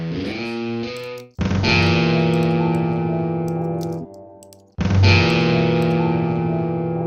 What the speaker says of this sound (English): More distortion on that part.